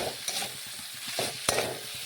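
Chopped tomato is being stirred into potatoes and carrots in a pan for a vegetarian potol posto, with a few close scraping strokes and one sharp clink of the spoon against the metal. A soft sizzle runs underneath and no one talks.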